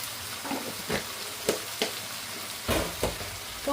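Crab being stirred with salt and turmeric in a pan, giving a soft continuous sizzle broken by several scraping and stirring strokes, close up, with no talk.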